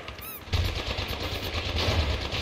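Rapid automatic gunfire in the video game Apex Legends, a dense continuous burst of shots starting abruptly after a brief high whine and rattling on steadily, loud and close.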